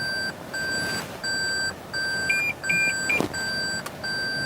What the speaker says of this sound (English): Needs more beeping.